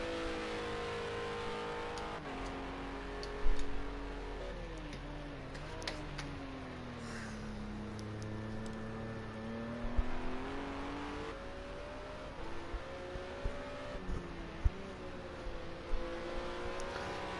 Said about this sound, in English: Ben starts the 10th and final lap here in the hard compound Ginetta GT4 Super Cup.